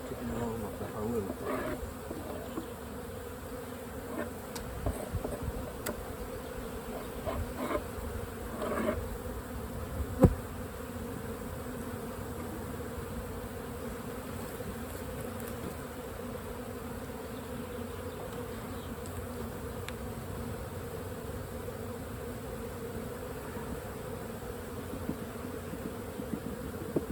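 Honey bees buzz continuously around an opened beehive, a dense steady drone near and far, with occasional handling knocks and taps during the inspection.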